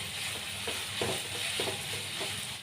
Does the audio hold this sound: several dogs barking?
no